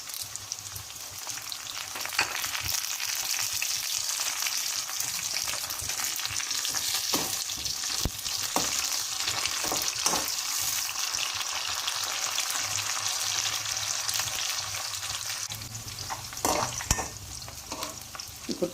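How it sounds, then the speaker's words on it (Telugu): Onions and curry leaves frying in oil in a pan for uggani, a loud, dense, continuous sizzle with frequent scraping stirs of a spoon, close up and with no voices. "కొంచెం ఎర్రగడ్డలు ఎర్రగా వేగాక కరివేపాకు వేసుకోవాలి"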